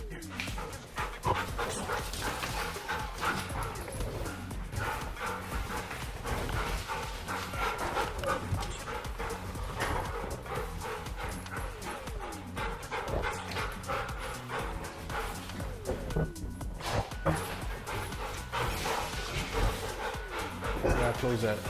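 A police K9 dog pants heavily and barks close by, mixed with rustling, movement and occasional clattering while people talk throughout.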